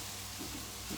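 Mushrooms hit a pan where onions were sautéed without oil, giving a steady, soft, even sizzling hiss for a second, with a faint low hum beneath and no voices.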